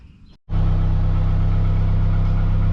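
A Saab 900 engine starts up abruptly after a short pause and runs loudly and steadily at close range, a low rumbling drone.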